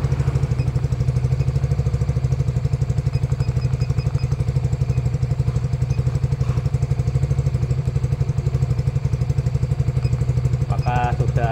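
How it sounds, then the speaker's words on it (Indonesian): A Honda CB150R or Suzuki Sonic 150 motorcycle engine idles close by with a fast, steady chugging beat and mechanical clatter, running evenly throughout. "ini motor sudah kita hidupkan ya"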